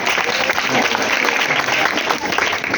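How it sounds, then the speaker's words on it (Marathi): Children applauding at a school children's literature gathering, a loud, dense burst of many small hands clapping together that stays steady through the moment. "तुमच्यासाठी तुम्ही टाळ्या वाजवा"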